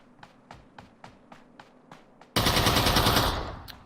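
Gunfire in Ring of Elysium during a competitive esports match: a steady series of evenly spaced single shots, then a sudden loud, dense burst of rapid automatic fire that slowly fades.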